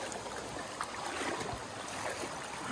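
A river in the Vercors mountains rushes along, a steady broadband wash of flowing water heard up close and unbroken throughout.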